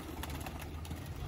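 Domestic flying pigeons coo softly, a faint, low, throaty murmur of repeated coos that blends into quiet background noise.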